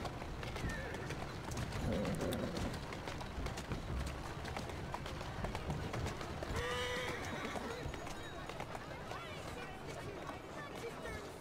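Horse galloping in the Assassin's Creed Syndicate video game, a steady run of clip-clop hoofbeats with a brief whinny, heard under a player talking and dense street-like game ambience.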